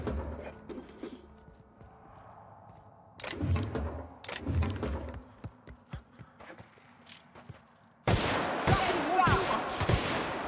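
Gunfire bursts in The Outer Worlds, a sci-fi shooter, come in loud volleys from about three seconds on, then a dense, sustained barrage near the end over a low game background.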